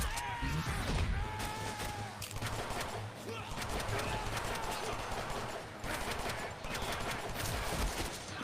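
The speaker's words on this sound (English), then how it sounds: "Now I have a machine gun." Rapid bursts of video game machine gun fire crackle through a dense, busy mix of in-game effects and noise, heard as a continuous loud barrage with no clear pauses.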